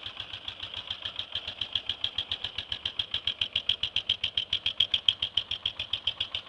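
A 1996 Suzuki DR800 motorcycle runs after an electric start, its engine pulsing in a fast, even, loud rhythm of strong beats, close and steady with no talking.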